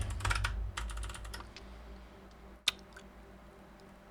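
Computer keyboard keys clatter in quick bursts of typing, dense at first and then sparser, ending with one sharp, loud click and a few soft taps in a quiet room.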